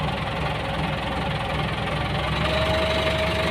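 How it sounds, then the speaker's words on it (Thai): A Ford tractor engine revving loud and steady in gear while testing a newly fitted drill attachment, a rough low rumble that holds at a constant pitch with a faint whine creeping in. "เดี๋ยวเราเร่งเครื่องสักหน่อย เร่งเครื่องนิดหน่อยครับ"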